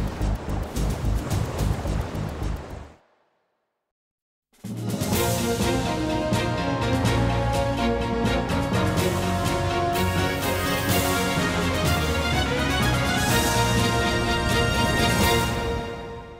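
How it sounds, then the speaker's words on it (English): Waves wash and surge around a boat being paddled in a Headhunter cutscene on PlayStation 2, a loud dense roar of surf and water that cuts to silence for a moment, then returns full and sustained. "Start paddling."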